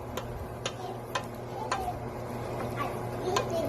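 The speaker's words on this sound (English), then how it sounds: "Keep stirring till it's brown." A spoon clinks against a pot on the stove about every half second while food browns, the light ticks steady over a low stovetop hum.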